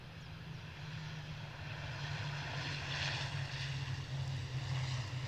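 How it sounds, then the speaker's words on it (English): An ATR 72 turboprop airliner comes in to land at East Midlands Airport in the evening, a faint, distant, steady engine drone that slowly grows a little louder. "take him down to East Midlands Airport in the evening as we watch this ATR 72 come into land"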